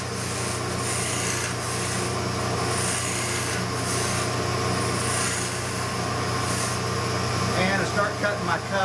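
Spindle gouge cutting a cove into a turned wood leg on a lathe, producing a continuous rough rasping scrape over the machine's steady hum, with someone talking over it.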